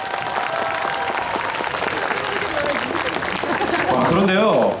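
Audience applause at a traditional pageant contest, dense clapping filling the whole stretch at steady loudness, with crowd noise and a voice breaking in near the end.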